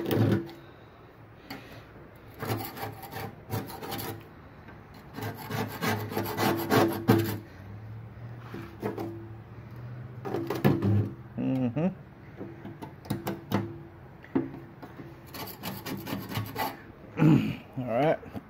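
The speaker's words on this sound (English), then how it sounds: "Let's get that scraper out. See if we can't break that up a little bit." A hand scraper rasps over the body of a go kart being prepared for paint, making rough, repeated strokes in uneven bursts, with some talk in between.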